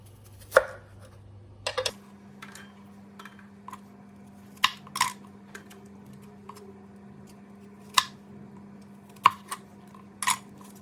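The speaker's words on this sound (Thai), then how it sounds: "เดี๋ยวหั่นอีกครึ่งหนึ่งค่ะ" Knife chopping enoki mushrooms on a board: sharp, irregular chops spaced a second or two apart, close by, with a faint steady hum underneath.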